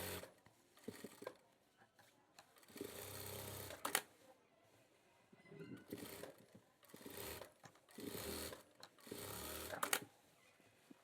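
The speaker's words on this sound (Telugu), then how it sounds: "ఎడ్జ్కి ఒక కుట్టు వేసుకున్న తర్వాత 1/4 ఇంచి ఖర్చుతో మరో కుట్టు అయితే వేసుకోవాలి" A sewing machine stitching a shirt seam, running in several bursts of rapid mechanical whirring a second or so long with short quiet gaps between, close but fairly soft, with no talk.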